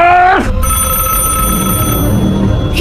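A telephone rings loudly and steadily in a short film, a continuous bright electronic ringing that begins after a brief falling tone and runs to the end.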